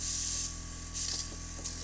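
An airbrush sprays paint onto homemade planet-style bath bombs, a steady close hiss with brief stronger bursts as the pattern is varied.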